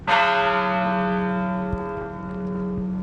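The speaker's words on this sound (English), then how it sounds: "that ancient marker of mourning and remembrance, church bells" A single church bell tolls once in mourning, loud and close, its deep resonant tone ringing out and slowly fading over several seconds.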